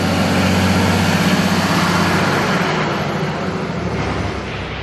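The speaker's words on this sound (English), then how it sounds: "Oh, there's a fire engine coming out now." A fire engine pulls out, its heavy diesel engine a loud, steady low rumble that eases slightly toward the end, with no talking.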